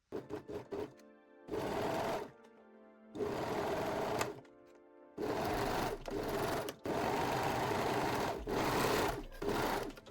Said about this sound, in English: And sew them both with a serger or zigzag stitch.